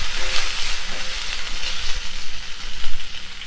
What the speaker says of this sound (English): chili garlic paste first so we can get rid of the raw smell. Just roast it slightly